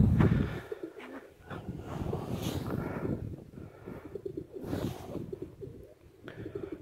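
Soft pigeon coos from a perch-white domestic pigeon in a loft, repeated in a low throaty rhythm across several seconds, close by and alone with no talk.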